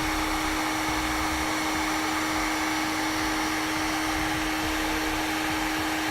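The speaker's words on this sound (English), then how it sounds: "Then we can take our heat gun and shrink it down." A heat gun shrinks a heat shrink butt connector on trailer wiring while a tail light converter kit is installed on a 2013 Infiniti JX: a steady, close blowing whir with a constant hum, uninterrupted and without talk.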